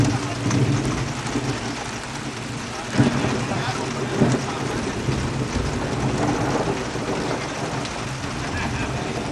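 Steady heavy rain fills an outdoor scene at a Saint-Jean celebration in Québec, with a couple of brief louder thumps that may be distant thunder. Faint voices sit under the constant wash.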